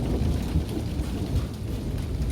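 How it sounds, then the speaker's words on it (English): Steady rain pours during a thunderstorm, with a low rolling rumble of thunder running beneath the dense hiss of drops; no one speaks. "there's lightning and thunder and stuff"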